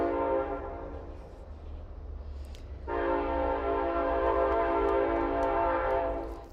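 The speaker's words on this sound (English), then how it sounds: "So now that the train is gone," A train horn sounds loud and sustained, getting noticeably louder about halfway through as the train passes, with steady rumbling rail noise underneath throughout.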